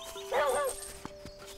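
Short high-pitched dog yips and whimpering bark from a Link's Awakening dog character, a brief burst over steady game music with soft taps after.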